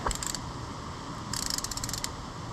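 A hand ratchet tightens a 17 mm bolt during a Honda Navi oil change, giving two bursts of quick, close metallic clicking separated by a short pause.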